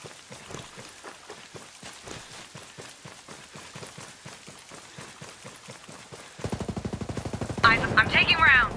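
Gunfire from a firefight in the tactical shooter Ghost Recon Breakpoint, a steady run of quick, moderately close shots throughout, turning into a louder rapid automatic burst near the end, with a voice speaking over it.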